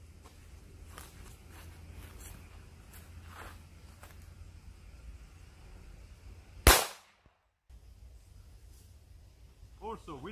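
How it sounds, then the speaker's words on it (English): A single sharp, loud gunshot from an HS-XDM .40 caliber pistol during a bulletproof test cracks out once, followed by a brief dropout, with quiet background shuffling before and after. "Second shot with HS-XDM in 40 caliber."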